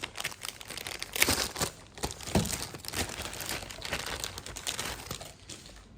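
Plastic packaging tray of an AGARO Grand Egg Boiler and Poacher box being opened, giving steady close crinkling and crackling with a few sharper snaps, and no talk.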